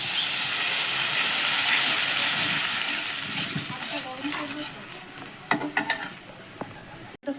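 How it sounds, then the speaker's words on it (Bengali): Water hits frying spice paste in a pan and bursts into a loud steamy hiss that slowly fades, followed by a few clinks and knocks near the end. "মশলাটা কষা হয়ে গেছে, এবারে দিয়ে দেবো জল"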